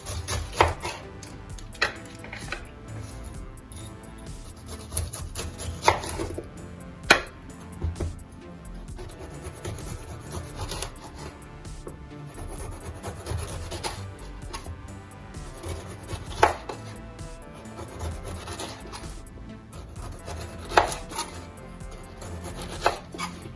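Knife cutting fruit into cubes on a board for a pineapple and Otaheite apple smoothie, repeated close chopping thuds and scraping at an uneven rhythm, with occasional sharper knocks and light clinks.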